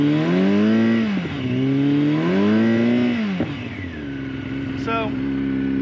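A 2005 Yamaha R6 sport bike revs twice at close range, its engine note climbing and dropping in smooth sweeps before settling into a steadier idle.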